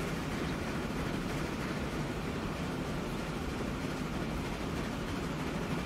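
A train in the video game Transport Fever 2 gives a steady, dense rumbling roar that stays even and continuous throughout, with no voices over it.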